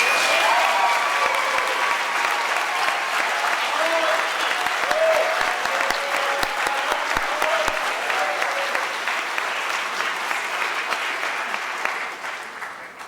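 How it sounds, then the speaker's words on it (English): An audience at a school awards ceremony applauding standing regional orchestra musicians: loud, sustained clapping from a large crowd that fades toward the end. "Musicians, if you will, stand and let us applaud you."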